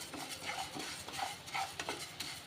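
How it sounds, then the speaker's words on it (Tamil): Pearl millet dry roasting in a pan: a spatula scrapes and stirs the grains in quick, repeated strokes, with a light rustling texture, close and moderately quiet over a couple of seconds. "ஒரு கப் கம்பு எடுத்துக்கோங்க இதையும் நம்ம வறுத்து எடுத்துக்கலாம்"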